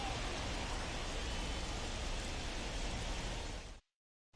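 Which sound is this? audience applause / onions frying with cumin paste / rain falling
rain falling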